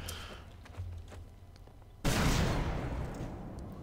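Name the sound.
explosions in a video game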